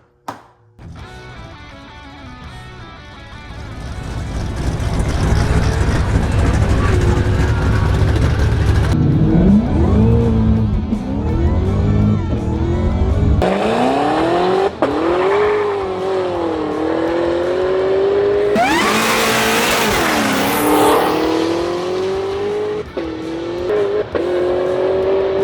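A Cadillac CTS-V with a missing crank balancer bolt drives hard, its loud V8 revving and accelerating through repeated gear shifts, with a sharp high whine near the end and no speech.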